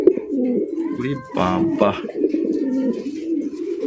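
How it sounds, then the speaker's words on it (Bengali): A male red desi pigeon coos close by, several throaty, rolling coo phrases in a pulsing rhythm, with a man's brief exclamation over one of them. "নরের ডাক শোনেন"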